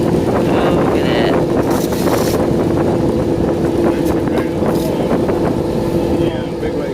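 A sailboat plows through a big wave at sea, with a loud, constant rush of wind and water dominating throughout.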